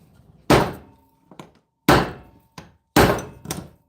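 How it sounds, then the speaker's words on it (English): A hammer strikes a jammed brass scrap fitting three times, each a loud sharp metallic thunk followed by a softer rebound knock, evenly spaced and close by with no talk. "Couple hits with the hammer like the old pickle jar"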